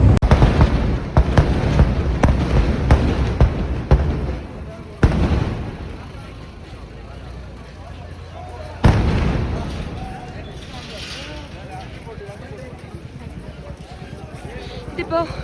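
Firecrackers burst at the crowded Nenmara Vallangi festival in Kerala after light rain. A rapid, loud string of booming blasts is followed by two single heavy bursts with rumbling tails, while people talk nearby.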